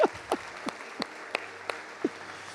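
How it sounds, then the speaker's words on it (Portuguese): A church congregation claps in a slow, steady rhythm, about seven distinct claps spaced evenly at moderate volume, with a faint murmur in the room. "Pode aplaudir a Jesus."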